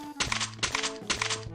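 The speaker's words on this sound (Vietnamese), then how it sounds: "Các bạn tôi đang bắn giảm thanh nữa." Three muffled bursts of suppressed gunfire in the battle-royale shooter Free Fire, each a cluster of soft rapid shots over a low droning game background, close and moderately loud.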